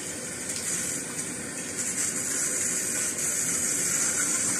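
Water runs steadily from a tap in a continuous broadband rush, hissy and fairly close, with no talking.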